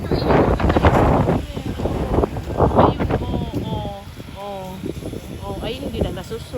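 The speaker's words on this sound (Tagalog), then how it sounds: "Lakas talaga ng hangin." Strong wind buffeting the microphone outdoors, heavy rumbling gusts loudest at the start and easing later, with someone talking over it.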